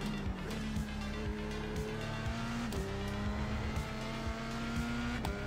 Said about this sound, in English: So that's we're driving the F3 at the moment.